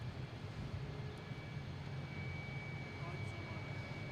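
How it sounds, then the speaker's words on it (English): A JetBlue Airbus A220 arriving at Boston Logan International Airport from Reagan gives a steady, fairly faint jet rumble that holds level across the few seconds without changing. "we have a JetBlue coming in from Reagan"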